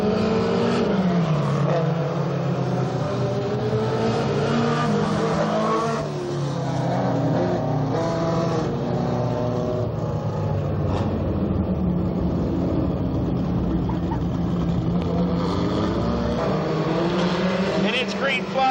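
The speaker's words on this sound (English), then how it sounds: "it's green flag time. This time it's wheel-to-wheel racing action down the front side" Stock cars, including a Chevrolet Lumina, racing wheel-to-wheel at Path Valley in 1992, their loud engines roaring continuously and rising and falling as they pass, with an announcer talking over the noise.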